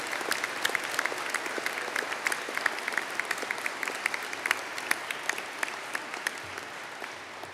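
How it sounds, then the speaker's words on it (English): A graduation ceremony audience gives a sustained round of applause, many hands clapping in a dense, even patter with sharp individual claps standing out, steady throughout at moderate distance in a large hall. "you might give everybody a hearty round of applause before we conclude today's ceremony"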